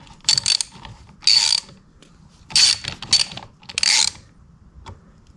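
A reverse-threaded puller is cranked with a ratchet to draw a flywheel off, giving five or six close, loud bursts of ratcheting clicks with short pauses between them and no talking.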